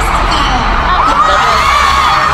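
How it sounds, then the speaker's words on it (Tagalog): A large crowd screams and cheers at a concert in the Philippines, a dense, loud and continuous roar of shouting voices with high-pitched shrieks rising above it. "Sumisigaw si Carla."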